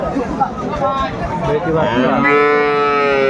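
A calf lets out a long, loud moo nearby at a cattle market in Aftabganj, Dinajpur, while people talk and chatter in the background.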